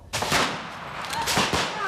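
Gunfire cracks out close and loud, with a sharp first report followed by a few more rapid bursts and echoing decay.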